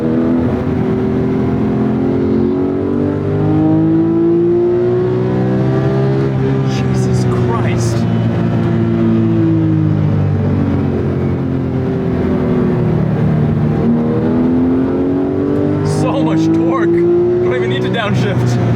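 A Porsche 997 GT3 engine revs steadily from inside the moving car, its pitch climbing and dropping through downshifts, with a loud continuous drone and a voice talking over it.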